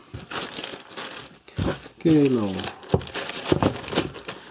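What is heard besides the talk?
bag crinkling while being handled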